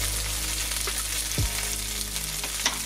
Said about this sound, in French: Quand c'est sur la poêle et que le premier côté laqué et grille